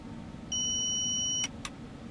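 An ETCS cab alarm inside a train simulator in SimRail, a single steady electronic tone lasting about a second, then a couple of short clicks over a low rumbling cab background, with no talking.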